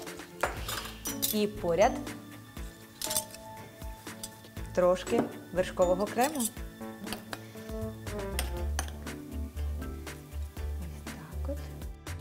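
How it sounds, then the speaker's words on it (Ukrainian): Metal cutlery clinks and scrapes against a plate while a slice of pear pie is moved onto it, with scattered close taps under someone speaking. "перекладаємо шматочок на тарілку"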